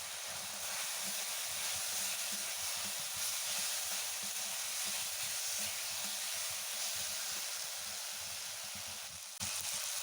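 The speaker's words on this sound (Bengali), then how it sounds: "এবার ভেজে রাখা মেটে আর আলু দিয়ে দিচ্ছি।" Fried chicken liver and potatoes hit hot masala in a pan, giving a steady, loud, close sizzle and hiss that runs unbroken with no talk.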